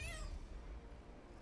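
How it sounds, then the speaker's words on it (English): A cat meows in the video game Baldur's Gate 3, a short rising-and-falling meow at the start that quickly fades into quiet background. "Cat, you just stand there and meow."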